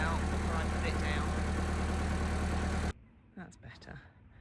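A tractor engine runs steadily and loudly while delivering a hay bale, then cuts off abruptly, leaving quieter bits of movement and faint sounds.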